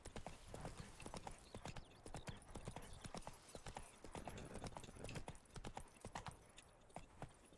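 Horse hooves striking the ground in The Witcher 3 Blood and Wine video game, a dense run of close, crisp clip-clop beats repeating throughout with steady rhythm over faint background game ambience.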